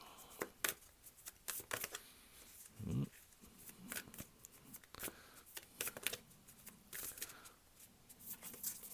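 Tarot cards riffle and slide as a deck is shuffled, soft rapid flutters and taps close by, with a voice talking at times over them.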